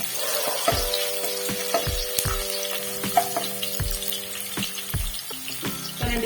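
Chopped garlic and raw green banana sauté in a hot pan with steady close sizzling, punctuated by repeated spatula scrapes and knocks against the pan for a home-style Tamil vazhakkai moong dal kootu; no talking.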